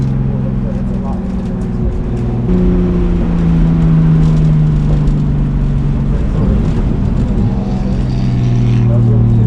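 Turbocharged 500whp BMW E30 race car on a track, engine droning loud and steady inside the cabin, pitch dropping at shifts and downshifts, with a voice talking over it.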